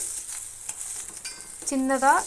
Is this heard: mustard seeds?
yes